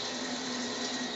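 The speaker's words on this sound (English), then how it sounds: "So now all I'm going to do is pour hot water over the meat, which is very hot" Hot water pouring steadily over cooked ground beef in a strainer to rinse off fat, a close, continuous splashing rush with no pauses.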